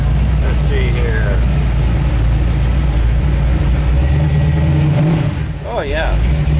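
A 1969 Camaro hot rod engine rumbles loudly in a driveway during a nitrous test, a steady low idle with a brief rising rev near the end, while voices talk over it.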